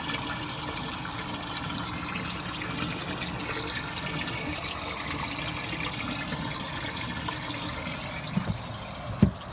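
Water rushes steadily out of a pond sieve's drain tap, a continuous close splashing gush lasting throughout, with a couple of faint knocks near the end.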